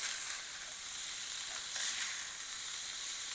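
Small fish frying in a pan, a close and steady hiss of sizzling oil with faint stirring, heard alone without voices.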